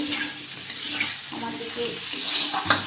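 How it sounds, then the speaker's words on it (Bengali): Pointed gourd (potol) pieces sizzle steadily in a hot pan, a continuous close frying hiss broken by occasional stirring scrapes and soft knocks. "এইভাবে পটলগুলো ভেজে নেব।"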